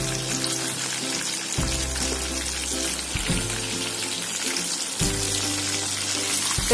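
Rava-coated pomfret pieces frying in hot oil give a steady, continuous sizzle that runs throughout, with a low tonal hum underneath.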